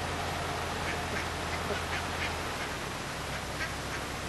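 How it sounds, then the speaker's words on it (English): Ducks quack repeatedly on a canal, a steady run of nasal calls at moderate distance over a continuous low rumble, likely a boat engine. "All the ducks are there."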